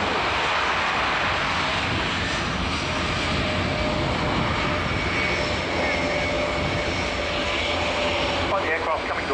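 Military jet aircraft at the RIAT 2018 airshow, a loud continuous engine roar heard from a distance as the aircraft slows on the runway, with a commentator talking over it.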